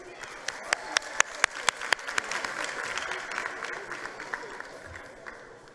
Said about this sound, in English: Round of applause for Tabiseng.